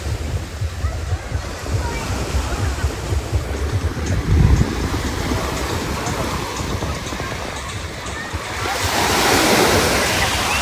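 Surf in Greece rolling in and washing up close by, reaching beach chairs, a steady broad rush of water that swells louder near the end, with some voices underneath.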